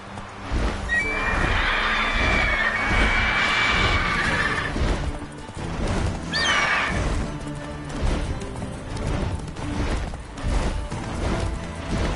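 A horse in the video game The Witcher 3 gallops with a steady run of hoof clip-clops, then lets out loud, shrill whinnies and neighs up close over the pounding gait.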